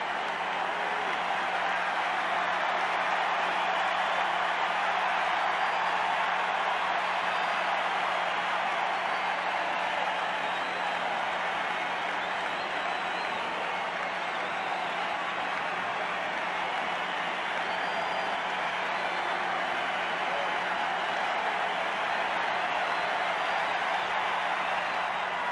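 Huge stadium crowd at baseball's 1987 World Series Game 7, Cardinals at Twins, roaring in a steady, dense wash of cheering noise that never lets up.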